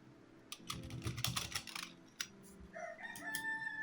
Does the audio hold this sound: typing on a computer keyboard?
yes